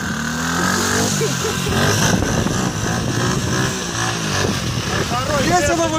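A Delta moped engine runs steadily at close range with a buzzing, slightly uneven putter, while people talk over it throughout.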